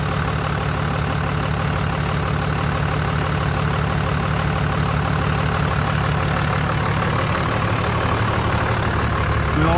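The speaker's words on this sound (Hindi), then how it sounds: "ये 12 HP इंजन की साउंड है।" A 12 HP diesel engine on a Toyota HJ61 idles steadily up close, a constant low rumbling chug with no change in pace and no voices.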